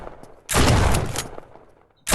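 Loud burst of rapid gunfire in the Android zombie shooter Zombie Apocalypse, a dense volley lasting about a second that fades out, followed by the start of another burst.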